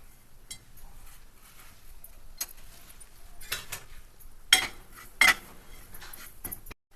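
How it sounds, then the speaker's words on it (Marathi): A spoon scrapes and clinks in a pan as roasted semolina with raisins and coconut is stirred, making scattered metallic taps and scrapes with two louder clanks, close up over a quiet background and no speech. "आता आपण हलवून घेऊया."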